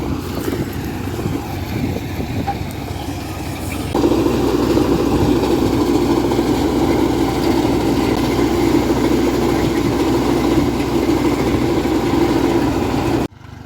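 A tractor engine runs close by with a steady low rumbling chug that grows louder partway through and holds until an abrupt cutoff at the end, with no talk.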